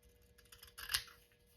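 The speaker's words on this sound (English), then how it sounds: "I'm going to take my scissors. This is too big, that's why I'm cutting it down." Scissors snip through paper in a short crisp cut, close and fairly quiet, with a few softer rustles before it and no voices.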